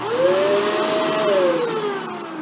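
A Shark Rotator ZU632 vacuum runs steadily at close range, a loud constant whirring roar whose motor pitch rises slightly and then eases back down.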